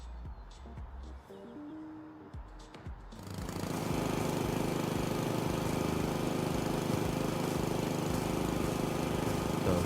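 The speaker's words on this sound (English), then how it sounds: "let's pull out the lawnmower" A lawn mower in House Flipper 2 starts up after a few seconds of quiet handling sounds, then runs continuously with a steady loud engine drone and rattle that holds to the end.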